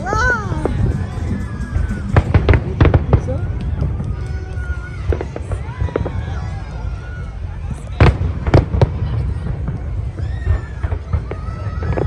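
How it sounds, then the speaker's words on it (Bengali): Australia Day fireworks burst in scattered sharp cracks and booms, some loud and close, over a noisy outdoor crowd with voices, including children, chattering throughout. "এখনো আছে আরো ফায়ার ওয়ার্ক"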